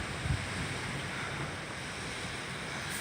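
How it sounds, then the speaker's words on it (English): Wind blowing steadily through backyard trees on a very windy day, a continuous broadband rush with gusty surges, heard close and alone with no talking. "If you can hear the wind blowing."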